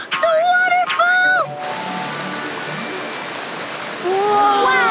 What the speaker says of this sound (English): Is that a waterfall? The waterfall!